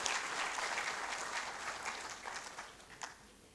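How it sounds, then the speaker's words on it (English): A conference audience applauds in a dense, steady round of clapping that fades slightly toward the end, with a few sharper claps standing out. "Let's acknowledge them with a round of applause"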